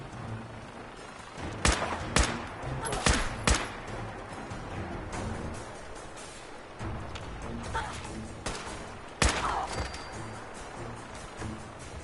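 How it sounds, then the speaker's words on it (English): Gunfire from people shooting in Fallout 4 rings out in scattered sharp bursts, some close and loud, others thinner and farther off, over a steady rumbling background. "a lot of some people over there shooting at you"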